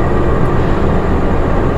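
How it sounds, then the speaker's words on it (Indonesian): A train runs into an Indonesian railway station with a loud, close, steady rumbling roar and no distinct breaks. No one speaks. "Nah tuh kereta kita udah mau datang."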